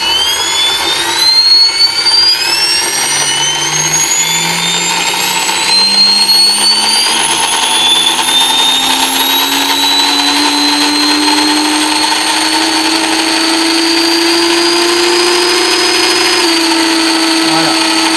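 Flywing FW450 V3 RC helicopter motors and rotors spin up, a loud rising whine and whir that climbs steadily in pitch over many seconds, close by, with a voice talking over it.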